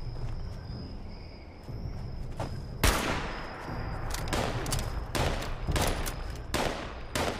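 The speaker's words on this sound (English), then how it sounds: "Fusion automatic laser" An automatic fusion laser gun fires in a video game in several sharp, rapid bursts that rise and fall in loudness, each volley crackling against a quieter background hum.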